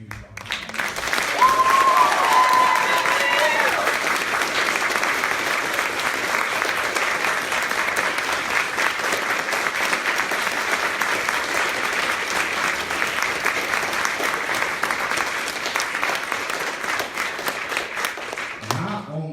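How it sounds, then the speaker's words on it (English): Sustained applause from an audience for two young playwrights who wrote, directed and starred in their play, dense and steady clapping for nearly twenty seconds, with a brief vocal cheer early on. "I want you all to give them a huge round of applause"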